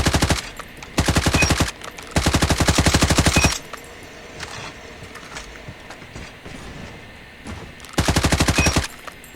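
Rapid automatic bursts from a CR-56 AMAX rifle in a ranked shooter match, three loud close volleys of steady fire early on, a quieter stretch with distant scattered shots, then one more loud burst near the end.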